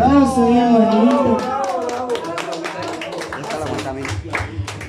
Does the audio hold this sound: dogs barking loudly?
no